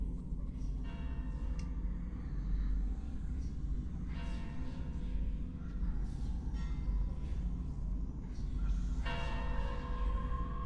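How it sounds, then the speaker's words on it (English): Church bell samples ring out within a progressive death metal track, bright tolling strikes sounding over a heavy, dense low-end mix of distorted guitars and drums. "Hear those samples coming in, the church bells"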